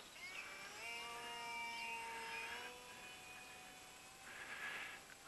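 Small sub-250g RC plank-style model airplane in flight, its electric motor at about half throttle giving a steady high-pitched whine with shifting tones as it passes, fairly faint and distant, no voices.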